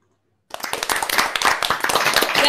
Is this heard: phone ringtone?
no